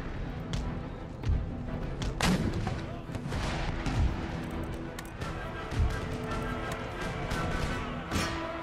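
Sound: artillery and musket fire in the video game Empire Total War

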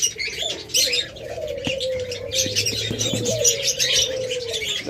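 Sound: pet birds cooing in a bird seller's cages

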